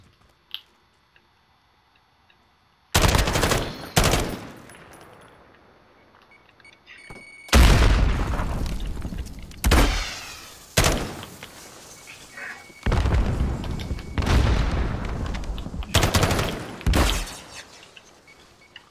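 A light machine gun fires in a video game in several long, loud bursts separated by short pauses, each burst a dense, harsh crackle of rapid shots.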